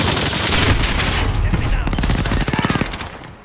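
Sustained automatic gunfire from a Call of Duty: Modern Warfare firefight, loud and dense throughout, ending in a rapid burst of rhythmic shots, with battle noise around it.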